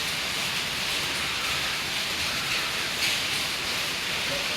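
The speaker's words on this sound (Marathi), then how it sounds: "पावसाचे दिवस चालू आहे." Steady rain falling outdoors, a dense continuous hiss filling the space evenly with no breaks, moderately loud and close, no voices.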